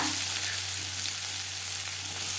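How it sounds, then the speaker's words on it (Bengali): Chopped onion frying in oil in a kadai, in a pan just used to fry fish, makes a steady, close sizzle that holds evenly throughout, with no voices. "কড়াইতে আবারও তেল দিয়েছি দিয়ে দেবো পেঁয়াজ কুচি"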